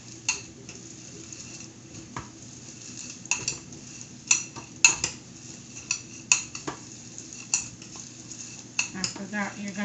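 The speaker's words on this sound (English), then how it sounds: "And then stir it." Melted chocolate for peanut clusters being stirred in a pot, with repeated soft scraping and clinking of a utensil against the pot at an irregular pace, moderately close, over a low steady background hum, without talk.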